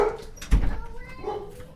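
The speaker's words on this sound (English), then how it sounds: "I wonder why he's barking. He shouldn't be barking like that." A dog gives a single yelping bark with a short whimper after it, loud and close, and faint voices murmur in the background.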